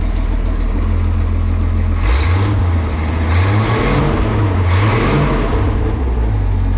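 A 1956 Ford Econoline engine runs steadily after a carburetor screw adjustment, a loud continuous low drone with a few rising revs in the middle, alone without voices.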